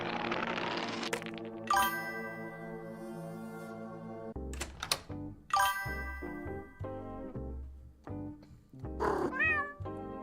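A cat meows several times, drawn-out and tonal, mixed with bright chiming jingles and dings from a game, with no talking.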